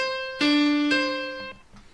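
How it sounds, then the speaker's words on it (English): Two sustained notes form a descending minor seventh from C down to D, each struck clearly and ringing before fading, played alone with no voices. "So C down to D is going to be a minor seventh"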